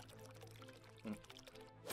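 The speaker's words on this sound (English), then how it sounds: "just pour me a glass" Beer is poured into a glass with a soft, steady liquid pour, quiet and close, ending in a brief rising gurgle as the glass fills.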